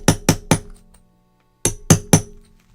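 A chisel strikes a hard black rock in two quick sets of three sharp, ringing clinks, close and loud, separated by a short pause of quiet.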